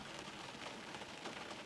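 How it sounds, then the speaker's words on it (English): Rain serves as a sound layer in a secret-agent stakeout music track, its low end filtered away, leaving a faint, steady hiss of patter with no other sounds. "the rain had a lot of low end that didn't really matter because that was all taken up by the piano"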